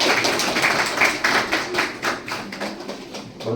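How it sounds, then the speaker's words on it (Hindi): Audience applause honouring guests at a school farewell ceremony for a teacher, a thin steady patter of hand claps with a slight rhythmic pulse, moderately faint and fading toward the end, with no talk. "आप आगत सभी से आगत अतिथि के सम्मान सत्कार के लिए तालियां जोर"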